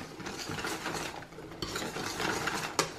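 A spoon stirs cake mixture with crushed Oreo biscuits in a bowl, producing soft, close scraping and knocking strokes with a couple of sharper clinks against the side.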